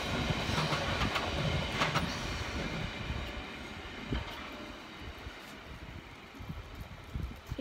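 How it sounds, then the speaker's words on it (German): A train rolls steadily past at a German station, a continuous rumble with rhythmic clickety-clack of wheels on rail joints, fairly loud and close throughout with no talking. "da ist ein Zug, ich warte mal, bis der weg ist"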